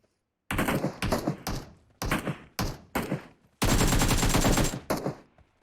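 Bursts of automatic gunfire in PUBG Mobile: several rapid rattling volleys separated by short pauses, one long sustained burst near the end, close and loud.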